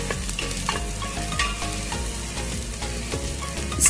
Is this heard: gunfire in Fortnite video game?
no